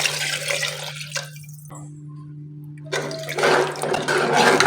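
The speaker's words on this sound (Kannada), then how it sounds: "ಅದೇ ಲೋಟದಲ್ಲಿ 2ರಷ್ಟು ನೀರು ಹಾಕೊತಾ ಇದ್ದೀನಿ" Water is poured from a cup into a pot of tomato rice on the stove, a splashy gush that stops briefly and then resumes louder over a low steady hum.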